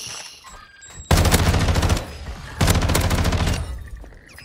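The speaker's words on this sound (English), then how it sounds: "Gun." Fortnite gunfire rips out in two loud, rapid automatic bursts, each about a second long with a brief lull between, heard close and alone with no talking over it.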